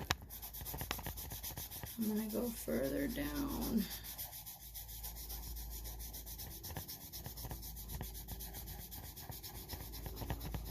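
A graphite pencil scratches and rubs across drawing paper in short shading strokes, a close, soft rasping that fades after a few seconds, with a person speaking briefly over it.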